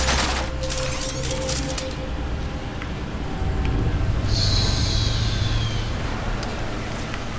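Reaper cannon in Crysis 3 firing as a dense, loud, sustained rattling barrage with bright metallic whine over constant rumble, no clear speech.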